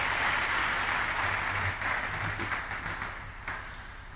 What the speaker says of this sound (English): I think you can keep on clapping for the leader.